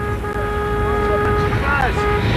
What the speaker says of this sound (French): Tout autour du carambolage, les concerts de klaxons sont les premiers signes d'impatience et d'énervement des automobilistes bloqués par l'accident